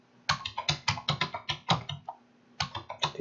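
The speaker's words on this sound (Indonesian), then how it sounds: "Ketikkan passwordnya lagi." Rapid, uneven keystrokes on a computer keyboard as a password is typed, close and crisp, with a brief pause partway through before the clicking resumes.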